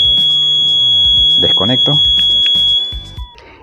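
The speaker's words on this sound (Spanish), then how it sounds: "Si yo corto el cable y se corta la continuidad, se activó la sirena." A motorhome alarm siren goes off after its wire is cut with pliers. It is a steady, piercing electronic tone, held loud under a man's speech, and it cuts off abruptly near the end.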